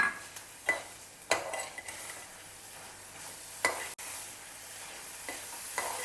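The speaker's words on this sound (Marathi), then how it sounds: "आता याच्यात आपण खोबऱ्याचा चव घालून घेऊ एका नारळाच्या खोबऱ्याचा चव आणि मस्त मिक्स करून घेऊया" A spoon stirs freshly grated coconut into a melted mixture in a pan over low heat, giving soft scraping strokes with light sizzling and occasional clinks against the pan.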